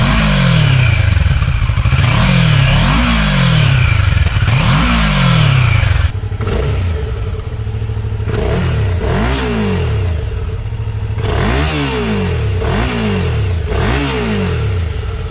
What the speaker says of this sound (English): Let's also have a quick listen to the stock exhausts of both bikes.